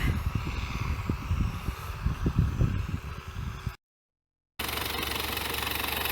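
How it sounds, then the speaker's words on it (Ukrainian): A rough, chugging tractor engine runs steadily nearby on a farm, arriving to cultivate with a small cultivator, cuts out briefly, then resumes as a constant drone. "приїхав вже трактор культивірувати"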